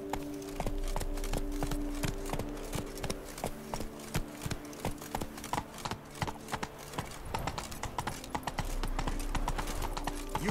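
Horse hooves clip-clop at a steady trot in The Witcher 3 as the horse rides through Toussaint. The even, rhythmic clopping runs throughout over a soft ambient hum.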